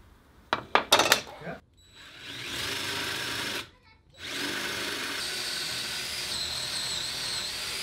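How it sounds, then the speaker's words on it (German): Power drill boring a hole into the center of a wooden table leg: a few short sharp bursts, then a sustained whining drilling run broken by one brief pause before resuming, close and loud. "Dafür markiere ich erst über die Diagonalen die Mitte der Beine und bohre dann ein passendes Loch hinein."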